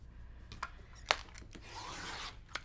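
Quilt fabric is cut along a ruler line with a few quiet scrapes and snips, including one sharp crisp cut near the middle, all close and faint.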